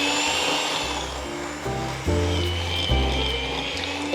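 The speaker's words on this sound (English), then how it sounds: "In with a whisk and beat this together for about 3 minutes, I think, until it's light and creamy." Butter and sugar being beaten together with a whisk for Christmas cookies: a loud, close, steady motor whine that shifts pitch in a few abrupt steps, with no talking.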